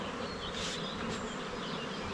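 A dense swarm of honeybees buzzing around opened hive supers, a steady close hum with a few louder passes of individual bees near the listener.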